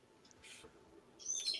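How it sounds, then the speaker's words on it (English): A seagull calls faintly from a distance in two short bright bursts, with quiet background hiss between the cries and no speech. "Seagull."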